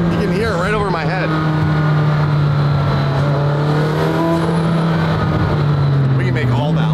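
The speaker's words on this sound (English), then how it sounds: "I want to make the blow-off valve sounds as loud as the 720 GTR." A McLaren Senna engine fitted with a blow-off valve holds a loud, steady, low drone throughout, with a voice briefly heard over it near the start.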